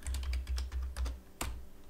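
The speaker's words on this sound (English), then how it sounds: "You will learn to type without looking at the keyboard" Keys clatter on a computer keyboard in quick, close, uneven bursts of typing, with no voices.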